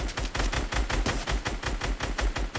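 Rapid automatic gunfire from a shooter video game, a dense burst of closely spaced loud shots that rattles on steadily throughout.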